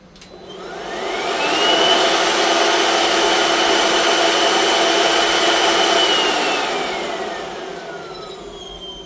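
Parkside 20V cordless leaf blower (PAUGB A1) running outdoors, its whine rising as the motor spins up, holding a loud steady airy roar for several seconds, then winding down at the end; no voices.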